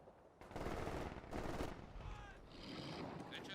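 Bursts of Vickers machine gun fire in the Company of Heroes 2 strategy game, two loud sustained volleys followed by a softer rattling stretch, with battle effects layered over the shots.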